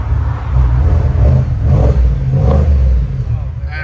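A 2022 Cadillac Escalade with a 6.2L V8 and Borla S-Type exhaust revs loud and close, a deep throaty rumble that swells and eases, with people talking over it.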